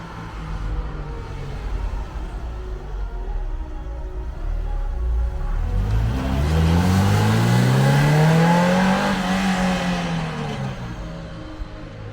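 A car at a cars and coffee meet in Nantes revs up, its engine note rising and then falling in a smooth sweep over a background of idling and crowd murmur, loud and fairly close.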